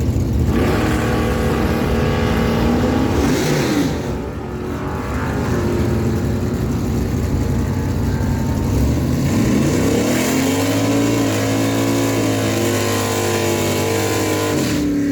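Drag racing at Miramichi Dragway, including Derek Purdy's 1968 Plymouth Barracuda, with loud engines roaring and revving in long rising sweeps as cars launch and pull away down the strip, heard without talk.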